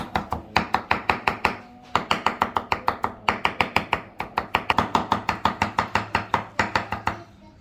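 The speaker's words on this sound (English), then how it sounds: "We're going to mince the gherkins and the capers." A knife minces gherkins and capers on a board for tartar sauce, a fast, steady run of sharp chopping taps up close, broken by a short pause, with no talking.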